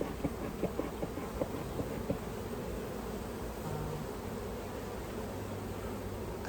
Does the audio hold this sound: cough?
no